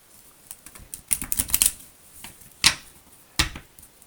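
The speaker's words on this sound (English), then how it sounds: "Let's shuffle in these cards" Cards are shuffled nearby in quick papery riffles and soft taps, with a few sharper snaps spaced through an otherwise quiet stretch.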